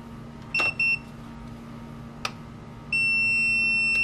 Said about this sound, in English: Press and hold the feeder button until you hear one beep.